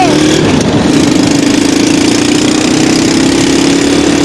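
A car engine runs steadily while being driven in Cox's Bazar, a continuous mid-pitched hum at a constant level with no talk over it.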